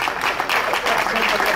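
Steady audience applause at an evening poetry gathering in Sammichele di Bari, Italy: dense, continuous clapping at fairly close range, with voices mixed in under it.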